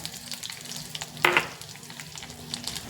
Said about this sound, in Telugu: మిరపకాయలు కొంచెం వేగినాయి కదా ఇప్పుడు నువ్వులు వేసేద్దాం